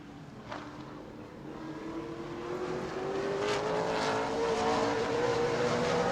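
A modified race car on a qualifying lap at New Smyrna approaches with a rising engine drone that grows steadily louder and climbs in pitch, heard from trackside without speech.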